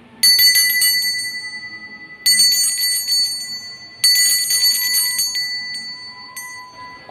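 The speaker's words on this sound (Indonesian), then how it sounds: "bisa ditandai dengan lonceng berbunyi" A small bell rings in three bright, clear bursts, each shimmering and slowly fading before the next strike, close and alone with no talk.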